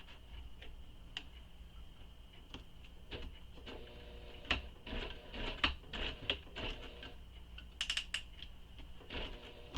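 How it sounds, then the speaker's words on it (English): A sewing machine runs around bag pattern pieces in uneven bursts of rapid ticking and clattering, quiet and close, with short pauses between runs. "we're going to take these to our machine and we're going to sew around, just around this, with the seam allowance given in the pattern"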